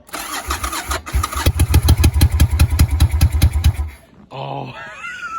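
A 1999 Yamaha Virago XV1100S motorcycle cold-starting: the starter cranks, the V-twin catches with loud, uneven pulsing firing, then cuts out briefly before a voice speaks over a quieter idle.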